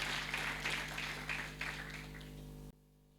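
Church congregation applauding in worship, a dense, steady wash of many hands clapping that holds for a few seconds over a low organ or keyboard drone, then cuts off abruptly.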